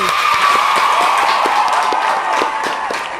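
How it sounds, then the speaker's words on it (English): A crowd gives a round of applause for a guest on a podcast episode, dense clapping mixed with cheering and whoops, loud and sustained throughout, with a faint voice rising over it near the end. "Everyone round of applause for Little Tiny"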